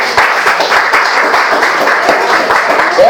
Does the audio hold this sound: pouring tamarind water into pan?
no